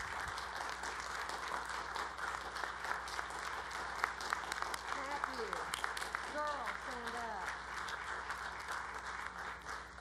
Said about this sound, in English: Please give them, thank you all, a round of applause.